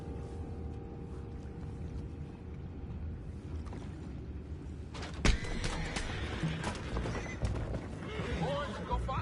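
Horses whinnying and hooves clopping in the Red Dead Redemption 2 game world near a boat on the water, heard under ongoing talk, with a sharp knock midway and busier activity afterward.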